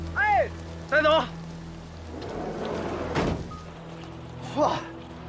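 Heavy rain pours over an outdoor crime scene, a steady hiss of downpour throughout, broken by short vocal exclamations, a dull thump and a louder splashing burst midway.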